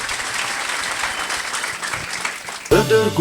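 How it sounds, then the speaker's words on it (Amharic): A church congregation claps together in a dense, steady burst of applause for close to three seconds, then it gives way to a louder voice and ringing tones at the end. "አጨብጭቡ ለጌታ"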